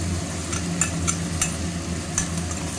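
Chicken frying in a pan with green chili paste and ginger-garlic gives a steady close sizzle, with a few brief scraping stirs and no talking.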